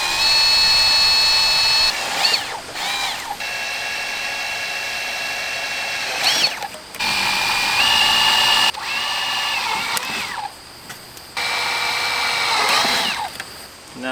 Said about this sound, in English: And now we're going to drill into this Dasaita head unit.